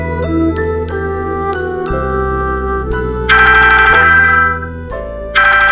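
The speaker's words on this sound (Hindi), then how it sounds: "फोन आया है, आओ जल्दी आओ" A mobile phone ringtone plays a loud, bright tinkling jingle of repeated chime notes over a steady electronic backing, ringing continuously with no talk.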